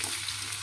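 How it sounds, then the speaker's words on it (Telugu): Coconut pieces and green chillies frying in a pan for village-style coconut chutney, a dense continuous hiss of sizzling oil heard close and steady with no voices. "ఈ కొబ్బరి ముక్కలు కూడా బాగా వేగాలండి మొత్తము"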